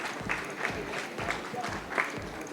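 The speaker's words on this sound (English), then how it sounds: "Let's have a huge round of applause," A conference session audience applauds, sparse clapping that rises and falls in uneven bursts while a voice carries on over it.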